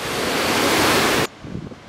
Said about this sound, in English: where the waves curl and the crests fall forward with a lot of force